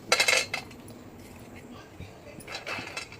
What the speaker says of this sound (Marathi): आपण पॅन ठेवला आहे गरम व्हायला आणि शेंगदाणे टाकून घेऊया